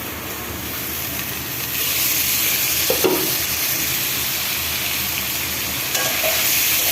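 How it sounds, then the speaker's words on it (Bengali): Stinging catfish (shing fish) sautéing with tomato in a pan, a steady loud sizzle and hiss with occasional scrapes of stirring, no voices. "দেখছেন আমি যেভাবে কষাচ্ছি, একটা শিং মাছও ভাঙে নেই"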